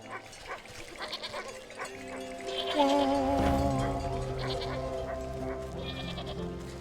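Goat bleating in the Wytchwood video game, a drawn-out wavering bleat rising over soft background game music and tones, fairly close and clear.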